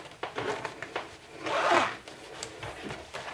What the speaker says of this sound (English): So now, when you open it, you have an actual zipper opening.